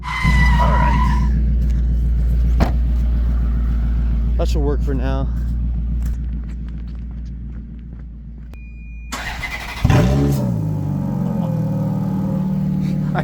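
A Ferrari in sport mode, moving out of a driveway, holds a loud, deep idle that falls away and then swells with a sharp rev near the end, while people talk close by.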